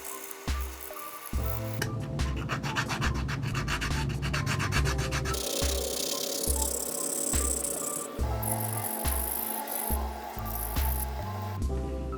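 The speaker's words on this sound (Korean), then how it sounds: "이번에 좀 열심히 사포질 했거든요" Close, repeated rasping strokes of sandpaper rub against a hard 3D-printed plastic figure in steady bursts, with a low background hum throughout.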